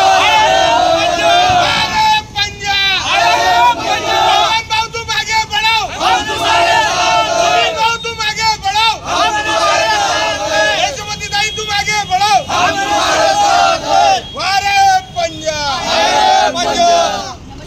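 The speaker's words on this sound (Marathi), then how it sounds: "राजकमलमध्ये तुम्ही पाहू शकता की किती जल्लोष चालू आहे" A large crowd celebrates at Rajkamal after a Congress election win, a loud, continuous roar of cheering and shouting with rhythmic chanting surges throughout and voices mixed in.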